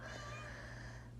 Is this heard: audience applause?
no